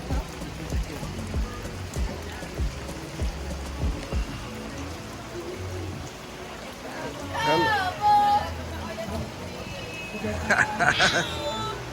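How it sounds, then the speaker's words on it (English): Steady rain patters on a surface throughout at Oyotunji village, with people talking intermittently in the background and a few sharper sounds near the end. "The rain will stop."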